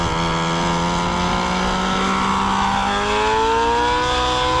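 A SAB Goblin Raw 700 nitro helicopter motor that has been broken in runs leaned out. It gives a loud, continuous, buzzing high-revving whine whose pitch slides and shifts as it runs.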